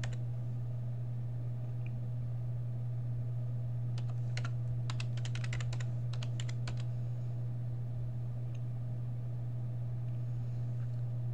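Typing on a computer keyboard at a Linux terminal during a GRUB install on Ubuntu 10.04: a short burst of quick, light key clicks over a steady low hum, with a few stray taps afterward.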